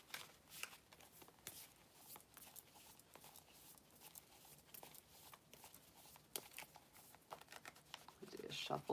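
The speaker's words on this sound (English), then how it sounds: "Shuffle these up real good for you." Tarot cards are shuffled by hand in steady soft riffling and patting bursts, close but quiet, with faint voice in the background.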